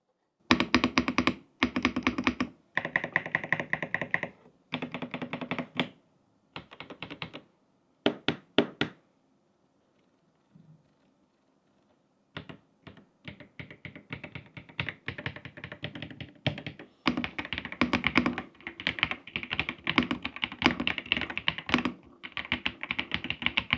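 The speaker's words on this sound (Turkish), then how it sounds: "Custom Cream switch'ler var. Bakalım sesi nasılmış." Typing on a Royal Kludge mechanical keyboard fitted with Custom Cream switches: close, crisp bursts of keystrokes in short runs, a pause of near silence, then a longer steady stretch of rapid clacking.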